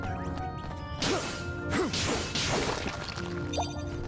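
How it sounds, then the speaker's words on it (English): Coral being smashed in the video game Ni no Kuni II: a few sharp crashing whacks with swooshing swings, repeated over a few seconds against steady background game music. "We should be able to destroy this coral easily enough."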